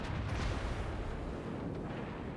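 A battleship's heavy gun salvo in World of Warships, fired in a competitive tournament match, rolls out as a deep, sustained boom and rumble that fills the whole short stretch at steady, loud level.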